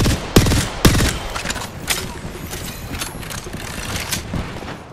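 Gunfire in Apex Legends: loud close shots and sharp bursts at the start, then scattered rapid fire continuing under a busy mechanical background.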